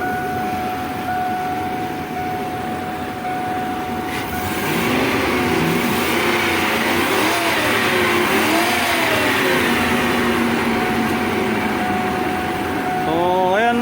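A Ford E150 V8 van engine with a misfire code P0308 runs steadily at about 800 rpm idle, a continuous mid-range drone with a thin whine, rising slightly partway through and holding level to the end.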